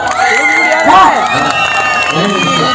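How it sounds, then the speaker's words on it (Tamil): A Tamil comedy show audience claps, cheers and whoops loudly, with shouting voices rising over sustained applause in a large crowd. "எனக்காக எல்லாரும் ஒரு பெரிய கைத்தட்டில் கொடுங்க பார்ப்போம்"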